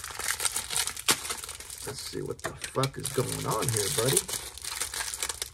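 Crinkling plastic tape being pulled and torn while a heavily taped care package is opened, close and busy, with someone talking over much of it.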